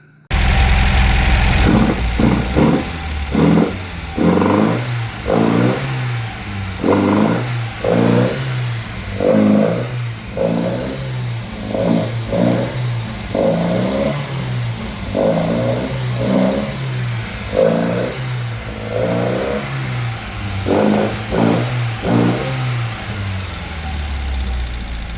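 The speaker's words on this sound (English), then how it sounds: "Let's go ahead and start the car up and see what we get." An MGB sports car engine cranks and catches, then idles roughly and is blipped through a long series of regular revs that rise and fall, loud and close, with no voices.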